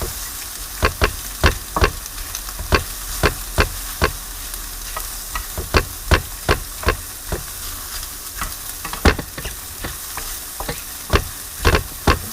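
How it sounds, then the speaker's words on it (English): Shrimp sizzle in a hot pan with a steady hiss while being stir-fried for fried rice, broken by repeated sharp scrapes and clacks of a utensil stirring them. "really hear that sizzle"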